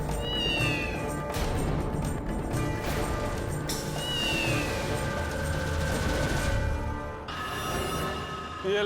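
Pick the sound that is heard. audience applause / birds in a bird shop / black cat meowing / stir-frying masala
black cat meowing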